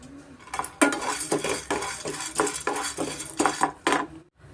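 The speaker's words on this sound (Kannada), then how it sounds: "ನೆಕ್ಸ್ಟ್ ನಾವು ಪಂಪ್ಕಿನ್ ಸೀಡ್ಸು ಹುರ್ಕೊಳ್ಳೋಣ ಮೀಡಿಯಮ್ ಫ್ಲೇಮಲ್ಲೇ ನಾವು ಹುರ್ಕೊಬೇಕಾಗುತ್ತೆ" Pumpkin seeds dry-roast in a pan over a medium flame while a spoon stirs them, giving rhythmic metallic scrapes and rattling clatters, close and fairly quiet, with no talk.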